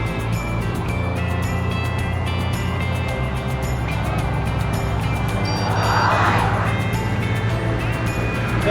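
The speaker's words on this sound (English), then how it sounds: "There it comes. Yeah, it's a tractor." A tractor engine drones steadily on a road, growing louder midway as it approaches, with a low rumble throughout.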